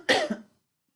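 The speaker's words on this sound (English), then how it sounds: "got a bit of a cough this morning" A single short, sharp cough from one person, close and alone, followed by silence.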